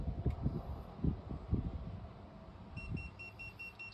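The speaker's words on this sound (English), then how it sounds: "I get an optional maintenance alarm. I get a standard maintenance alarm." A Garmin 8600 chartplotter sounds its maintenance alarm as a Yamaha outboard motor starts on a boat: low rumbling thumps, then a short series of faint, evenly spaced electronic beeps.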